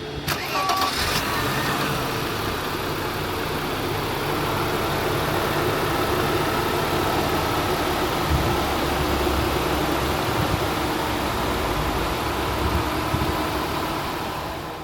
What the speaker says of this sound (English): So there you go, the M104 straight six